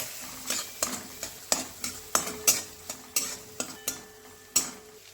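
Chopped onion and tomato sizzle in a pan while a utensil scrapes the pan in quick, rhythmic strokes, about a dozen close, crisp scrapes over a steady frying hiss.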